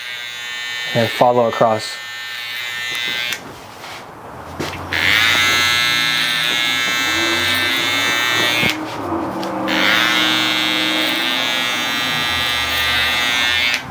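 An electric hair trimmer buzzes steadily while cutting a high taper haircut, running close for most of the clip after a brief start, with someone talking over it.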